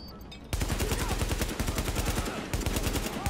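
Rapid automatic gunfire in Tom Clancy's The Division, a dense stream of loud, close shots that starts after a short lull and keeps rattling almost without pause, with a brief break before resuming.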